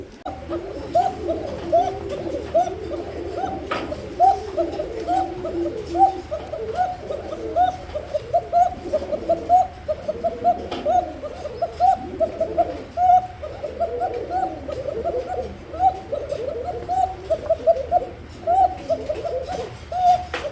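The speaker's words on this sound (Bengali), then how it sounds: "এটা আসলে কবুতরের ডাকটা এটা শুধু ডাকটা শোনাই দিলাম" A flock of pigeons at a pigeon market cooing continuously, many overlapping soft, throaty coos close by with a steady low background hum.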